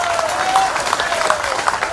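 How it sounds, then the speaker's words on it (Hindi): Scattered clapping from an outdoor public gathering at a government announcement event, uneven and moderately loud, mixed with crowd murmur and a faint tonal sound underneath. "अब तख्ती नीचे करो और ताली बजाओ"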